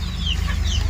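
A desi hen clucks on a farm: quick, close clucks and squawks over a low steady hum, with no one speaking.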